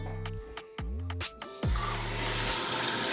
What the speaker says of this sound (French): Avec ce robinet classique, on est à 10 litres d'eau consommée par minute.